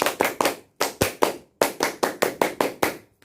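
A group of children claps the Scout rhythmic clap: three claps, a pause, four claps, a pause, then seven quick claps, loud and close.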